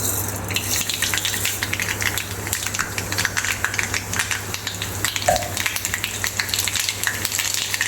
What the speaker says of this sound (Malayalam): അപ്പോൾ ആദ്യമേ തന്നെ ഇതിനകത്തേക്ക് നമുക്ക് കുറച്ച് കടുക് ഇട്ട് കൊടുക്കുക.